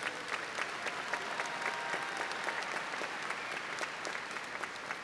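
A crowd at a 2019 high school graduation claps for the graduating students, a steady, dense wash of many hands with individual claps popping out, continuous throughout.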